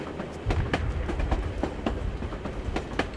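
Train running in the video game Assassin's Creed Chronicles Russia: a steady rumbling roll with rhythmic clickety-clack wheel beats repeating over the rails, continuous and fairly loud, with no talking.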